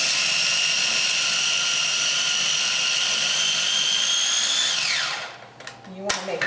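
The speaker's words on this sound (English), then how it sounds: "our garlic in a little food processor" A small food processor grinds garlic and pine nuts with a loud, steady high whine. The motor then spins down and stops, leaving a few clunks and handling noises.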